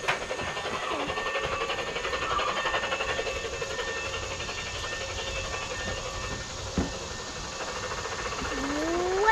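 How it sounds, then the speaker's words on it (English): A train rumbles past at a distance near Vines Park in Loganville, Georgia, a steady low mechanical roar with faint squeals and a brief clank, growing slightly louder toward the end. "They're driving the trains."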